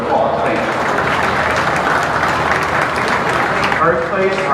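Crowd applause for exhibitors at a county fair beef cattle show, a dense steady roar of clapping that runs loud and unbroken throughout.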